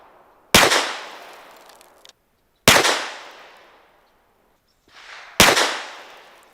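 Three separate, loud 9mm pistol shots from a full-size handgun with a red dot sight, each a sharp crack followed by a long fading echo downrange, spaced about two and a half seconds apart.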